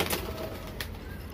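Domestic pigeons kept at home for homing training coo with low, muffled calls over a steady noisy background, with no voices.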